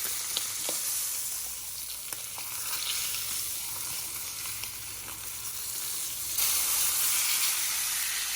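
A heavy seasoned steak sizzles in a pan right after being flipped, a steady close hiss of frying fat with scattered small pops and crackles, getting briefly louder near the end, no talking.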